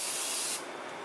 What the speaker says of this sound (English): Using this spray first.